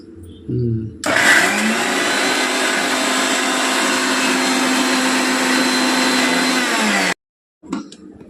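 An electric mixer grinds ginger and garlic in a loud, steady whir lasting about six seconds before cutting off abruptly, with brief voice sounds just before and after.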